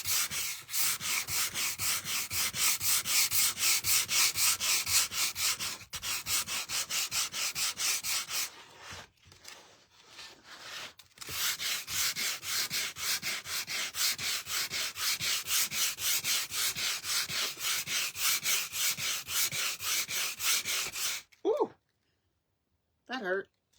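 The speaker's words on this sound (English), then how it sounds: "I'm just sanding it." Sandpaper rubs back and forth over a wooden board being distressed, a close, loud, rhythmic scratching that runs in long bursts with a few brief pauses, and a voice speaks near the end.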